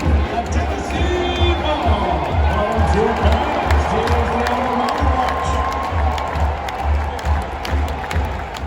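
Crowd noise from a stadium in the College Football 25 video game, Tennessee versus El Paso at Neyland Stadium, with sustained loud cheering and shouting that rises and swells, under an announcer's voice.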